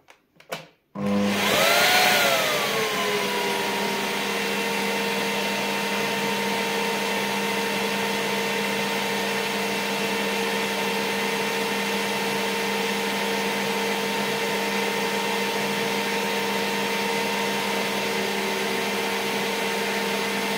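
After a click, a Vorwerk VK135 vacuum cleaner starts up and runs at its minimum power setting with a steady, continuous whine, heard close and alone.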